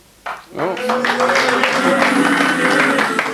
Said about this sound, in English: Oh, round of applause for that, can you believe it? First round of applause I ever had.